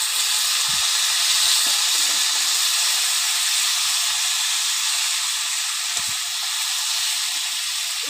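Chopped bottle gourd hitting hot oil with cumin and green chilli, producing a loud, continuous hiss of sizzling that stays steady for the whole stretch, with occasional soft clinks.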